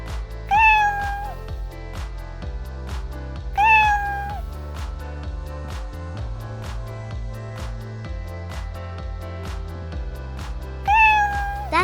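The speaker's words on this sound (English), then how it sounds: "What sound does a cat make?" A cat meows three times at spaced intervals, each a clear rising-and-falling call, over a steady low rhythmic musical backing, no talking.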